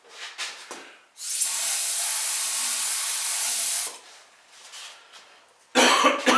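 Wood ash glaze sprayed onto pottery pitchers: a loud, steady airbrush hiss runs for about three seconds, then a quieter spell with faint handling noises, and a second spray burst starts near the end.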